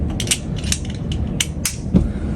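Screwdriver prying and working a button off an RV, giving a series of small sharp clicks and scrapes with a faint creak over a steady low background hum, close and fairly loud.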